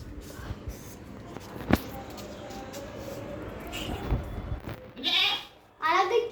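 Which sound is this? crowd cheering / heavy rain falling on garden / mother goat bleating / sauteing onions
mother goat bleating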